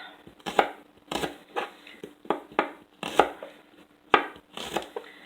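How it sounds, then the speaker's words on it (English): A knife slicing vegetables on the bias against a cutting board, about a dozen crisp, close chops in a fairly regular rhythm with no talking. "I'm just trying to slice these on the bias so they have nice little even slices"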